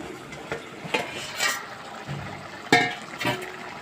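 Red lentil dal bubbling in an open pot just after the lid comes off, with soft simmering and a few scattered clinks and scrapes near at hand, no talk.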